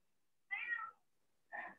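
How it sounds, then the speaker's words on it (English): A house cat meowing twice indoors, two short close calls separated by about a second of silence. "My cat calling me."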